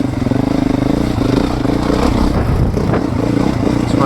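A 2024 Beta 430RR four-stroke dirt bike engine lugging at low revs on a trail ride, with a loud, close, steady thumping rumble and a slight clatter throughout.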